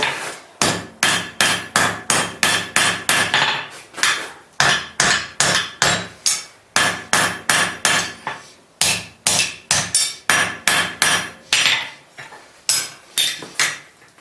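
Rhythmic hammer blows ring on an anvil while bolt jaw tongs are forged, loud and close, in steady bursts of strikes separated by brief pauses.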